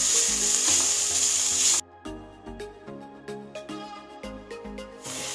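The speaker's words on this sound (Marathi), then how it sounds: "फक्त आपली साखर वितळेपर्यंत परतून घ्यायचं आहे।" Sweet modak filling sautéed in a pan until the sugar melts, giving a steady loud sizzle broken by a short pause, then rhythmic scraping and stirring strokes, with no talk.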